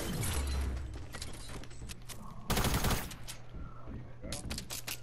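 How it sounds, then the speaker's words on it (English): Gunfire in the video game Fortnite: rapid bursts of shots in repeated clusters, with one loud, dense volley in the middle, over a steady game hum and occasional faint voices. "He's shooting."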